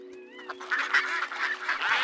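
Cartoon ducks quack in a lively cluster by a fast river at sunset, several honking quacks overlapping loudly after a brief whistling tone, no speech.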